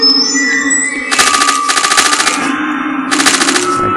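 Rapid bursts of automatic gunfire ring out in the video game Cyberia 2, several loud, close volleys of fast repeated shots separated by brief pauses, with electronic game sounds and echo behind them.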